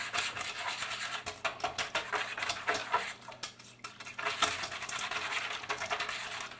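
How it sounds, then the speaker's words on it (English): A spoon stirs white pepper into a pot of Irish beer cheese soup, giving steady scraping and rubbing against the pot with irregular clinks, close and moderately quiet, no talking. "And then some white pepper. Let me stir all that in."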